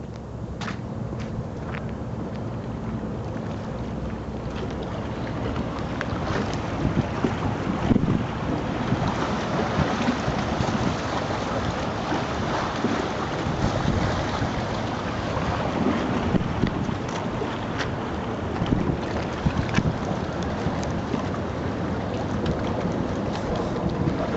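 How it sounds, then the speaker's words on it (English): Steady wash of water with wind rumbling across the microphone, waves from a passing boat's wake lapping continuously at close range against an old pier, with no voices. "Look at these waves coming in."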